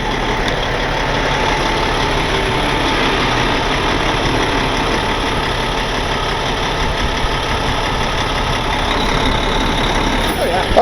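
A truck engine runs steadily while stranded on a snowy mountain in a storm, a loud continuous rumble with broadband roar throughout as it is put in drive to pull forward.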